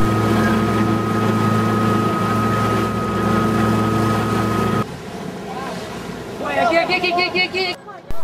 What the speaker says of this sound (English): a replica of his ship, only this one has the advantage of a Mercedes diesel engine